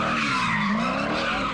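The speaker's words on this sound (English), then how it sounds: "Masses of car enthusiasts showing off and burning rubber." Car tires squealing loudly and continuously as drivers burn rubber at a street takeover, a sustained screech with engine noise underneath.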